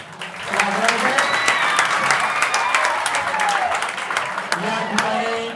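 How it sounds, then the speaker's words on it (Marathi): An audience claps loudly and steadily for the arrival of guests at a Talent Hunt prize distribution ceremony, dense continuous applause running about five seconds, with voices talking over it. "पुन्हा एकदा जोरदार टाळ्या वाजवायच्या."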